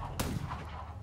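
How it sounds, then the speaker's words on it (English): A single sharp gunshot cracks out in the video game Blood Hunt, a brief loud blast that quickly fades into a low rumble. "You're in the middle of, like, crazy gunfire."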